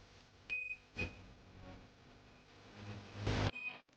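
A brushless motor being tested during a cordless drill repair gives several short electronic beeps at irregular intervals, with workshop handling noise around them.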